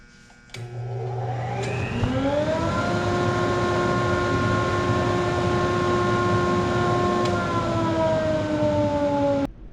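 A belt and disc sander runs together with its dust collector in a wood shop, a steady loud motor drone that starts abruptly, winds up in pitch over the first couple of seconds, then holds a constant hum with strong harmonics.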